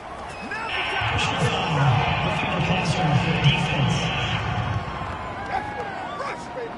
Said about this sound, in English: this crowd does not like that call. Understandable reaction from them.